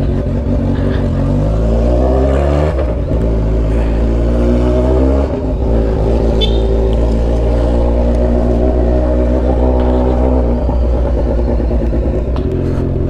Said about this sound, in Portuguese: que ronco nessa moto, hein, tio?